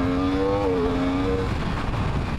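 A 2020 Yamaha R1 sport motorcycle engine revs up and holds a high, strained pitch, then the tone drops away into a rough idle rumble.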